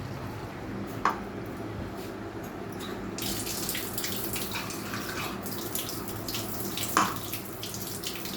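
Water is poured over a plate to wash it, reusing rinse water from a mixer grinder jar. A steady, close splashing flow runs throughout, with two brief metallic pings.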